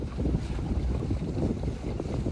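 Sailboat under engine power pulling into a boatyard on a windless day, a steady low rumble of motor and water with some wind noise on the microphone, no talk.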